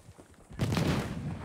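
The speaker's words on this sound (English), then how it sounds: "Oh, another big explosion." A big outdoor explosion booms suddenly and loudly, then rumbles on for about a second, with no talk over it.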